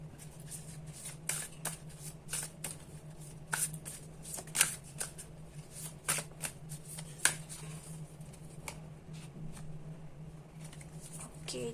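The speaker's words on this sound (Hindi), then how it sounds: "तो मैं यहाँ से एक कार्ड और निकाल लेती हूँ" Tarot cards shuffled by hand in steady riffling bursts, crisp papery flicks repeating close up over a low steady hum, with a card drawn from the deck.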